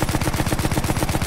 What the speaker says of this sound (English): This machine gun is doing a lot more damage than I thought it would.